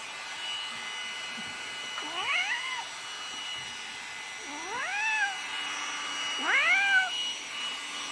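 A cat being groomed with an electric pet hair vacuum trimmer lets out three drawn-out, rising-then-falling meows at regular intervals over a steady motor hum in the background.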